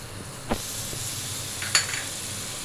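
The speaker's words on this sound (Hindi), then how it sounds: "तो अब हम इसमें लहसुन का पेस्ट डालेंगे" Garlic paste sizzles in a hot pan of oil for beef keema karahi, a steady close hiss with a couple of sharp clicks of a spoon or utensil against the pan, no voices.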